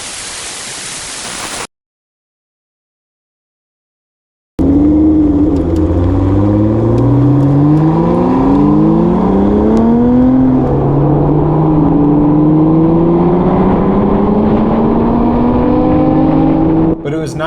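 A Lotus sports car on the road, with its engine note climbing and dropping through gear changes as it drives steadily, heard loud and close after a short silent gap.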